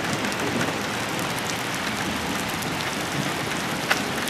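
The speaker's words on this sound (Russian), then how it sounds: "Еще волна идет, дождя." Heavy rain pours down during a thunderstorm in Kimovsk, making a dense, even hiss of drops striking surfaces close by, with no thunder claps or voices standing out.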